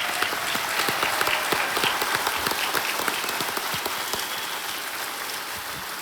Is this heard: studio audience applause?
yes